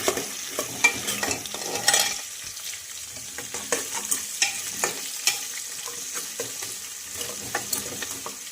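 Peanuts and curry leaves being stirred into ginger-garlic paste frying in a pan, with a steady sizzle under repeated scraping strokes of a spoon at close range and no talking.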